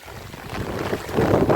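Strong wind roars and buffets a microphone in a steady broadband rush, growing louder toward the end, with no voices.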